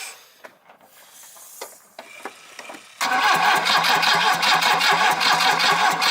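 A Volvo engine running Megasquirt engine management cranks slowly on the starter with a rhythmic, steady churning, close and loud, after a few quieter clicks and knocks.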